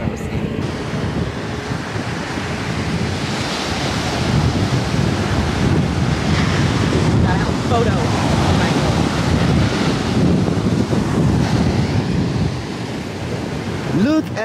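Ocean waves break and wash onto the beach at Cabo in a continuous loud roar, with heavy wind buffeting the microphone throughout.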